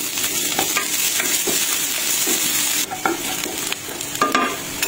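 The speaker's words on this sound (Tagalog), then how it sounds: "Sa ating pan ay nagpainit ako dito ng mantika at nagisa ng bawang." Garlic and onion sautéing in hot oil in a pan, a steady close sizzle with intermittent stirring scrapes and clinks throughout.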